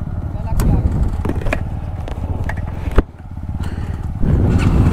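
Pulsar NS200 and RS200 motorcycles ride through a valley with corners. Their engines drone loud and close, with a sharp knock midway, and someone talks over the riding.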